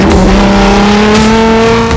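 A rally car at the Ha'il International Rally 2024 revs loudly and close by, a dense, sustained engine roar with a steady pitch throughout.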